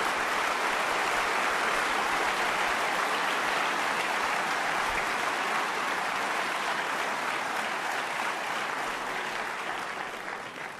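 A large crowd at a French presidential campaign rally in Strasbourg claps in sustained, dense applause that fills the hall evenly for about ten seconds before beginning to taper off at the end.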